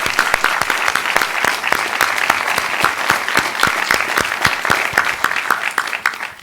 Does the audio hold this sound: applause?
yes